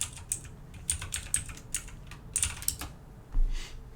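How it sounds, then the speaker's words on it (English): Fast, irregular bursts of clicking keystrokes on a computer keyboard, close and fairly quiet, with no talking. "Let's type that in, see if that works."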